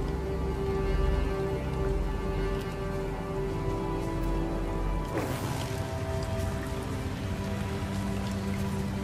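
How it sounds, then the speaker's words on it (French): Steady rain patters inside a cave in the video game No Man's Sky, a dense, even hiss of drops over a low drone, continuous throughout. "Un effet de pluie à l'intérieur d'une grotte là."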